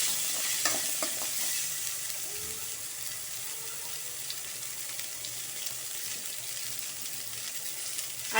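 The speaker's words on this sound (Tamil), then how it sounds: "அடுத்தது பூண்டை சேர்த்து நல்லா வணக்கலாம்." Garlic sizzles steadily in hot oil in a pan for a chickpea kulambu, with a few scraping stir strokes near the start and a constant bright frying hiss throughout, close and moderately loud, with no voices.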